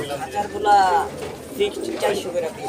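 Pigeons coo at a busy pigeon market, soft throaty calls mixed under close conversation among traders and buyers.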